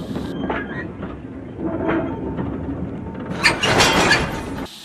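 A steam train pulls into a station, with rolling clatter and metallic clanks from the wheels and cars. A louder burst of hissing and banging rises toward the end before it cuts off.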